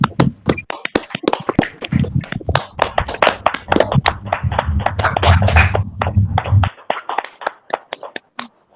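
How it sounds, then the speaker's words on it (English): Online meeting participants clap after unmuting their microphones, a scattered patter of separate hand claps from several people at once, thinning out to a few isolated claps near the end, with a low hum beneath. "Can you all unmute yourself and let us clap?"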